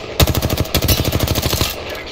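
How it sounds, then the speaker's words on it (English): Rapid automatic gunfire in the video game Apex Legends, a loud, close burst of evenly spaced shots lasting about a second and a half before cutting off. "Getting shot at."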